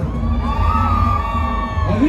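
Women in a packed concert crowd at a banda show at a fairground shout and cheer together in one loud, sustained roar, with a rising whoop near the end.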